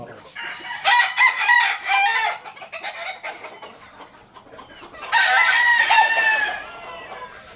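Gamecock roosters crow in two loud, close bursts a few seconds apart, with softer clucking and faint background activity between the crows.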